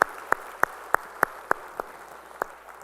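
A handful of slow, separate claps ring out in a church during a Korean Sunday worship service, about eight sharp hits spaced irregularly and thinning out toward the end, with no broad applause building up.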